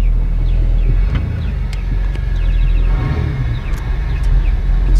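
Steady low engine and intake rumble from a Jeep Wrangler fitted with a Spectre air intake while driving down the road, a continuous whooshing drone close to the microphone with slight swells as throttle changes.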